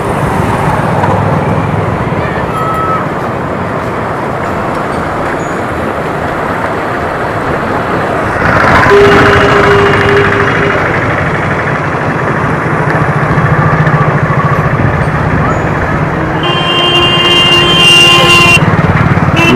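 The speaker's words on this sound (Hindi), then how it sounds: "जो बाइक वगैरह आती जाती है तो यहाँ पे ऐसे शोर शराबा होते रहता है" Loud, continuous road noise with motorbike engines passing close by on a bridge over the flooded Kamala River, rising and falling as vehicles cross, a horn-like tone near the end.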